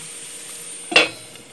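A lid set on a pan of cooking onions, one sharp metallic clank above a faint sizzle that quickly fades back to quiet.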